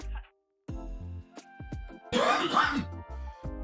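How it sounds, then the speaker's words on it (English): A single rough throat-clearing cough erupts in the middle, loud and close, set among tonal background sounds with a short quiet gap near the start. "I've coughed a few times on stream so far"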